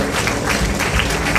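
Audience applause at the final of a local beauty pageant, a brief dense burst of crowd clapping, fairly loud and close throughout.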